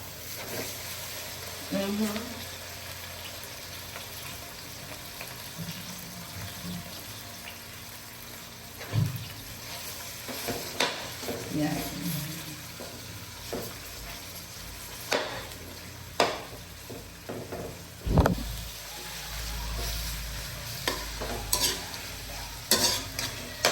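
Pork cooking for a creamy spaghetti fries in a pan with a continuous sizzle. Irregular stirring scrapes and utensil knocks against the pan recur throughout, with occasional low thumps, close and moderately loud.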